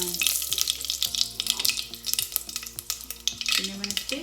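Mustard seeds and a bay leaf crackle and sizzle in hot frying oil for a bottle gourd (lauki) dish, a dense close hiss with sharp pops and some stirring clinks.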